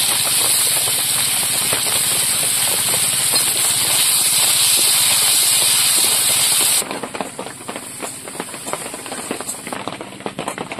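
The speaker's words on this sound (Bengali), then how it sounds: "মাছ ভাজা তেলে 5 ফোড়ন দিয়ে দেবো, তেজপাতা, পেঁয়াজের কুচি আর রসুন।" Five-spice, bay leaf, chopped onion and garlic hiss and sizzle in oil left from frying fish, a loud, steady frying roar that drops to a lighter crackle partway through, with no talking.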